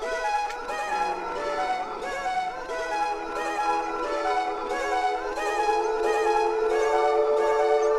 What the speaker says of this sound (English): that's the sound effect of the Giganotosaurus